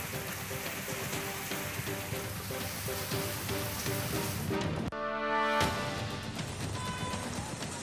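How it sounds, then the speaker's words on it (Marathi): Steady rain pours down during the monsoon, a dense hiss of drops on surfaces that continues throughout, with a brief sharper burst near the middle. "आता अनेक भागात चांगला पाऊस झालाय"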